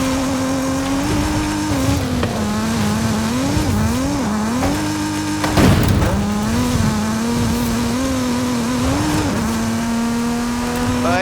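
A Mazda Miata engine drones steadily as the car drives through spooky woods at the base of a volcano in Forza Horizon 5, with pitch rising and dipping through gear changes and a brief burst of noise midway.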